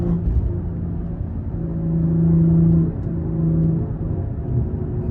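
A BMW G30 540i brakes hard in a tunnel and its engine drones, with rising blips as it shifts down through the gears. The sound is close and rumbling and echoes off the enclosed walls.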